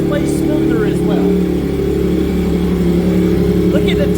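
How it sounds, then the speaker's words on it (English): A 2026 Yamaha R9 motorcycle with a titanium exhaust revs on a dyno, a loud, steady engine drone holding nearly level throughout with faint higher tones flickering above it. "We're gonna just get a sample of the way this exhaust sounds."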